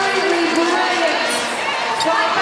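Netball crowd at a World Cup semi-final between Australia and South Africa roars and cheers at the end of a quarter, a loud sustained wash of voices beneath a commentator talking over it.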